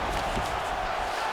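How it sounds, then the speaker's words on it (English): An arena crowd in the UFC 5 fighting game roars in a continuous, dense wash of cheering throughout, steady and fairly loud, with no clear breaks. "big pop from the crowd as they get back to their feet"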